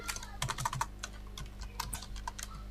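Quick bursts of keystrokes on a computer keyboard, clustered clicks then scattered taps, close and clear, with no talking.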